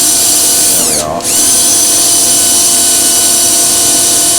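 A lathe whirs at a loud, steady pitch while sandpaper rasps against the natural edge of a spinning wooden bowl, with a brief dip in the motor's hum partway through.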